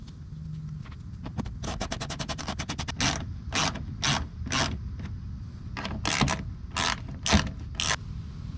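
Screws being driven with a ratcheting tool while installing Husky mud flaps on a vehicle: a fast run of ratchet clicks followed by a series of separate loud buzzing bursts, close up.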